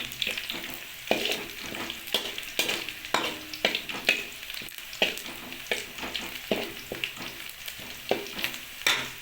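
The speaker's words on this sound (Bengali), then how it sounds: "একটু ব্রাউন করে ভেজে নিতে হবে।" Chicken livers fry in a pan, a steady sizzle broken by repeated scraping stir strokes at an even rhythm, close and moderately loud with no talking.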